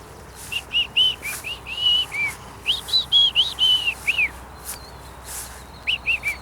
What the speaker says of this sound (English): Oh, there's a killdeer over there.